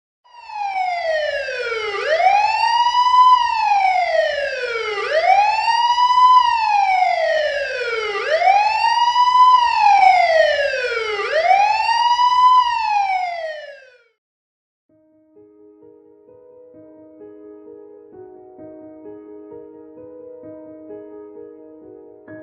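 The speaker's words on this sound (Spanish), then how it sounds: "el sonido de una sirena" A police siren sound effect wails in steady rising and falling sweeps for about thirteen seconds, loud and close, then cuts off, leaving soft ambient music.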